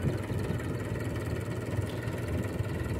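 A 30-year-old farm tractor loaded with soil idles, giving a steady low rumbling chug with an even pulse, close by and with no voices.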